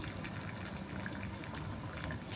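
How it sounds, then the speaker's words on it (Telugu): Hot water pours steadily into an egg and drumstick curry in a continuous gushing stream, close by, with no talking. "ఇప్పుడు ఇందులో కొంచెం హాట్ వాటర్ వేసుకుందాము"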